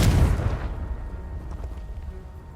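A Confringo blasting curse from Hogwarts Legacy sets off one sharp, loud explosive blast that fades into a rumbling decay over a couple of seconds.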